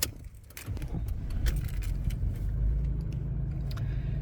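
Keys jangle in the ignition of a 2016 Toyota LandCruiser 200 Series GX, then the engine turns over and settles into a low, steady idle rumble close by with small clicks on top. No one speaks.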